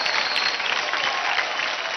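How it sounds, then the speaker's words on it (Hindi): Audience applause fills a dance reality show studio, a dense, steady wash of many hands clapping at full volume throughout, with no talk over it. "ताली बजाओ यार"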